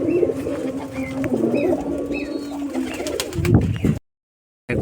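Pigeons offered for sale coo repeatedly at close range, soft throaty calls rising and falling over a busy background of birds and rustling before a brief cut to silence.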